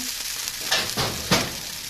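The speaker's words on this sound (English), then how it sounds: "My steak is sizzling." Steady, close sizzling of flank steak frying in a hot pan, with a couple of brief louder flares of spitting fat and no talking.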